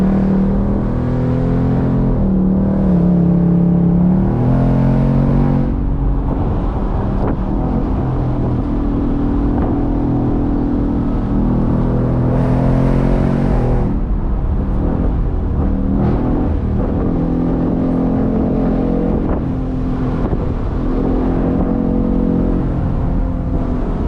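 A 2024 Ford Mustang GT convertible with the Coyote V8 accelerates uphill on a mountain road, its loud engine note climbing and falling through gear changes in a continuous, throaty roar with no talking.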